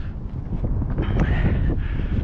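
Wind gusting across an exposed mountain summit near San Diego, a loud steady rumbling buffet with some rustle, close to the microphone and continuous with no talk.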